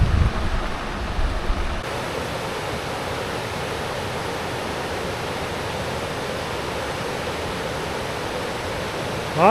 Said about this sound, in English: A lot of part of the trip here has been along the river that's been roaring like this.